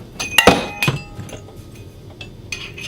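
A metal pipe slid over the handle of a 12 GPM Goldstream oil transfer pump gives a few sharp metallic clinks and knocks, loud and close, two strong hits early, then fainter taps.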